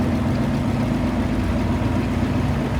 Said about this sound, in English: Here comes another 284 International. 79 model